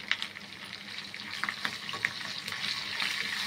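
Food sizzles steadily in a pan as sambar ingredients are stirred, with soft scraping strokes over a continuous close frying hiss and no voices.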